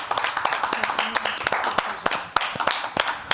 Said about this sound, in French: Et on va tous t'applaudir.